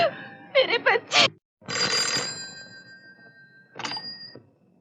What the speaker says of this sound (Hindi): अरे शांता, ये तुम्हें जिंदगी में आज पहली दफा टेलीफोन करने की क्या सूझ